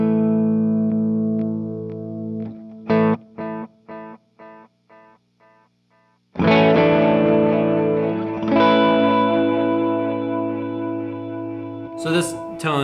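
Electric guitar played through a pedal board with delay: staccato chords repeat as fading echoes, then sustained distorted chords ring out with a shimmering, layered tail, loud and close.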